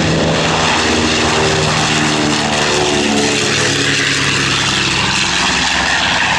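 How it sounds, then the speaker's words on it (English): A WWII propeller bomber takes off at an airshow, its piston engines and propellers producing a loud, continuous droning roar that fills the scene from start to finish. "Notice the nose wheel is already off the ground and he's rolling on the main, lifting off at about the same place"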